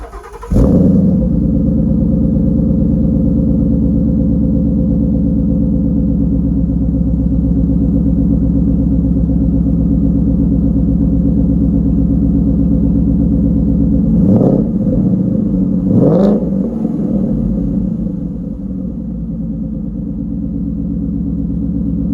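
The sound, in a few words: 2017 Ford Mustang GT engine starting and revving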